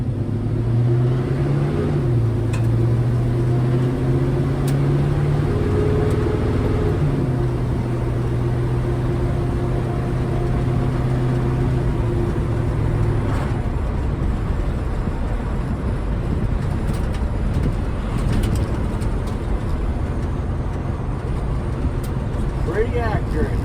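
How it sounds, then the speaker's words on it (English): A 1956 Chevy truck cruising down the road, its steady low engine drone and road rumble running continuously, with talk heard over the driving noise. "we're gonna go down the road and see what the speedometer is doing here"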